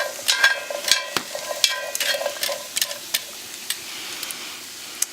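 Chestnuts slit across their shells roast over an open fire, giving a steady close sizzle and hiss broken by sharp pops and crackles that come thick early and then thin out to scattered snaps.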